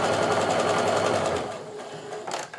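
A sewing machine stitches quilt strips for a Quilt of Valor in a fast, steady whirring run that slows and fades near the end, close by and alone.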